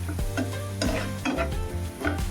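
Spinach bhaji with turmeric, coriander-cumin powder, red chilli and salt being stirred in a pan, with repeated close spoon scrapes in a steady rhythm over a continuous sizzle.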